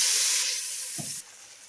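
Chicken drops into a pan of hot tempering for chicken chilli and rassa, a loud, close steady hiss of sizzling oil with a soft thud partway through, after which the sizzle settles lower.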